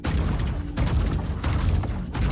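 A new ship-mounted weapon in Star Citizen fires in heavy, booming bursts, several shots spaced apart over a constant low rumble.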